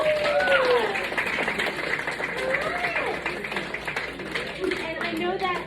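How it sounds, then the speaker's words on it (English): A wellness workshop audience claps in a brief, light round of applause while people keep talking over it. "Give yourself a little round of applause."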